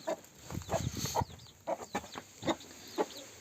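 Several chickens, Gurk Indian hens, cluck in short, repeated calls inside a coop, close by and moderately loud, with no talk over them.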